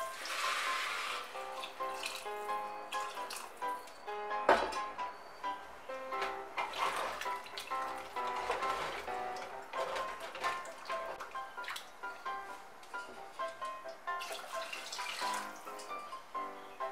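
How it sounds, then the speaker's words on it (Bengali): Warm water pours into a pot of dalia and dal, a steady splashing gurgle with bright clinking tones running throughout and a sharper knock near the middle. "এখন এর মধ্যে আমি জল দিয়ে দিচ্ছি।"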